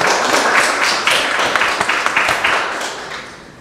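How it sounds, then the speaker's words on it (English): An audience breaks into applause at an art event, a dense burst of many hands clapping with a few sharper individual claps, gradually fading. "please give him a round of applause"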